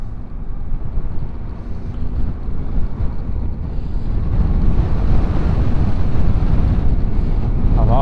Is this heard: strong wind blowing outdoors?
yes